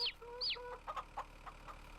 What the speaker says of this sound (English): There we have our little chicks.